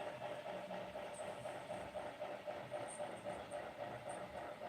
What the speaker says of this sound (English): Oh, we saw another train there.